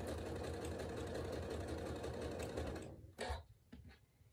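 A sewing machine stitches a quarter-inch seam joining quilt squares for a log cabin table runner, a steady close rapid chatter for about three seconds, then stopping with a few small clicks and handling sounds.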